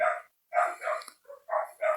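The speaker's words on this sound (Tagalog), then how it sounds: "Ito namang aso. Tahol lang tahol." A dog barks in a series of sharp, loud, close barks, mostly in quick pairs, with short silent gaps between bursts.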